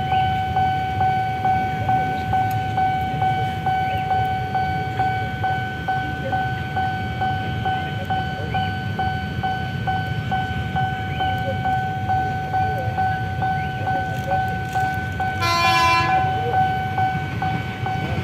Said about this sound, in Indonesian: Akan ada suatu kereta melintas dari arah stasiun Keramat. Itu adalah komuter lain.